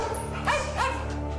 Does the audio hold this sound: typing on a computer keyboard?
no